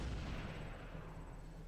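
Gunfire from a Halo video game, a dense, rumbling burst of shots that holds steady and fairly loud from start to finish, with no voices.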